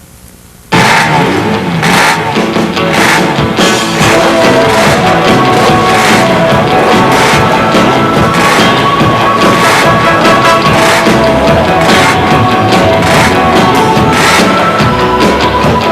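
Motorcycles race on the Isle of Man TT course. After a short quiet start, a loud and steady engine roar holds throughout, broken by rhythmic bursts as machines rush past one after another.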